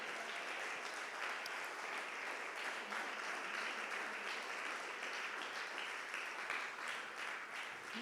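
A church congregation applauds during a Spanish-language service, a steady, continuous wash of clapping from a large group that holds at an even level throughout, heard from some distance.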